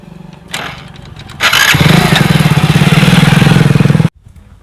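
A motorcycle engine sputters, catches, then revs loudly and steadily with a rapid pulsing rumble before cutting off abruptly.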